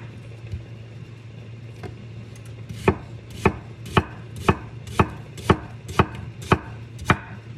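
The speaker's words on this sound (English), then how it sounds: "you don't have to chop the onion up really fine. You can just do a rough chop." An onion for deer chili is rough-chopped with a knife on a board, giving a run of about nine crisp, evenly spaced chops that come steadily after a few lighter taps, close and clear over a low background hum.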